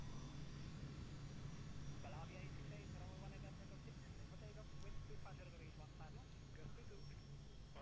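A steady, loud engine roar from an Airbus A320neo rolling down the runway for takeoff from EGCC to EFHK in a flight simulator game, holding constant throughout while a person talks over it.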